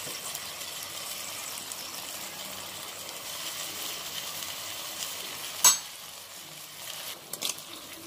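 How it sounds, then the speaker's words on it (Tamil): Small dried shrimp fry with half-cooked tomatoes in a pan. A faint, steady sizzle runs throughout, with a brief clatter of stirring near the end. "அரை வேக்காட தக்காளி வெந்திருக்கும் போது நம்ம கழுவுன சென்னாகுனியை இதில் சேர்த்துக்கலாம்."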